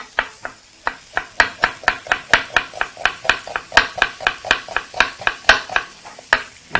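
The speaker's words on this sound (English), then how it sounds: "Proceed to chop right up to the very end." A sharp knife chops vegetables on a cutting board in a fast, steady run of crisp, close knocks, about four per second, clear and alone with no talk.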